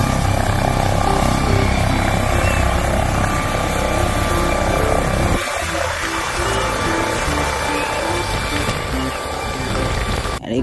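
A red toy helicopter makes a loud, close-up whirring drone for about five seconds. The sound then drops off sharply, leaving a quieter hum.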